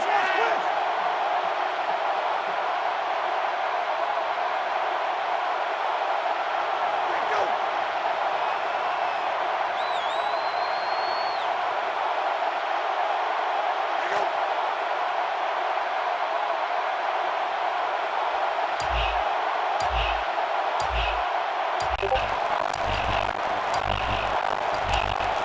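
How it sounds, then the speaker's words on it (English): A steady roar from a packed stadium crowd in the college football game NCAA 14 runs loud and unbroken throughout, with a commentator talking over it and sharp thumps and claps near the end. "It's arguably the loudest crowd in the nation,"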